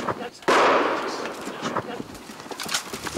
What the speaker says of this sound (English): When I heard the gunshots